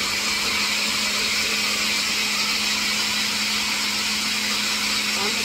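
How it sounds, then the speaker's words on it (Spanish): Kitchen blender whirring steadily as it blends the last glassful of Guatemalan tamale salsa, a loud continuous motor drone with a constant pitch holding unchanged throughout, no voices heard. "vamos a licuar el último vaso de nuestra salsa"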